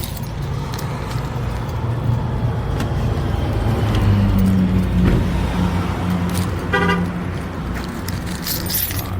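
A parked car's engine idles steadily throughout, a low continuous rumble that stays close and loud the whole time, with faint jangling and a brief mechanical squeal partway through.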